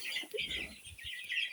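Young chickens cluck and chirp softly in a brief burst of overlapping bird calls, close by, with faint rustling underneath.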